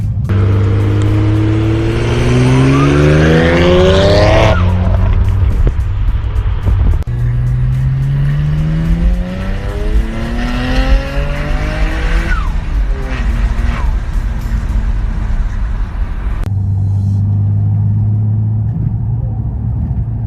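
A 450 HP BMW 335i engine revs up repeatedly through rising pitch sweeps, dropping back between shifts, loud and close, with road rumble underneath.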